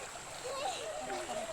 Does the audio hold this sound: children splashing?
yes